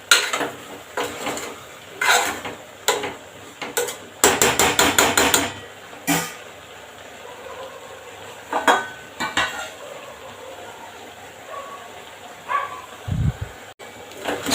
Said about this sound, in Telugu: కారపొడి వేసుకొని కలుపుకోండి.